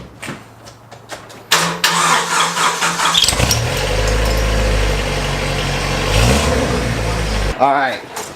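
A Jeep Wrangler fitted with an exhaust whistle tip cranks and starts, then revs loudly and settles into a deep idle, with a brief rising whistle near the end. People talk over it.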